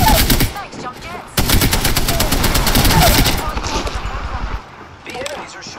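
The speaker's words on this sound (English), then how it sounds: "The enemies are shooting at me." Enemy gunfire in Apex Legends rattles in loud rapid bursts, a sustained automatic stream broken by a short pause, with game effects and talk underneath.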